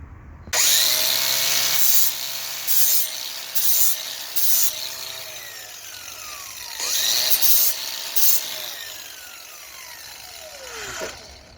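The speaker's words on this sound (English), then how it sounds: "To sand down the pipe where needed, I use sanding discs." Sanding discs grind down the surface of a gas pipe for a handrail, a loud steady abrasive whir in several bursts with brief pauses and pitch drops as the tool spins down between passes.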